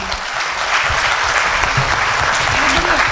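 A crowd at a Hindi comedy poetry gathering breaks into steady, dense applause that holds for a few seconds, loud and continuous.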